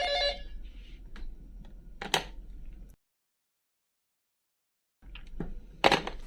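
A mobile phone rings briefly aboard a cargo ship: a short, bright tonal ring at the start, then scattered clicks and handling noises, a stretch of dead silence, and more clatter.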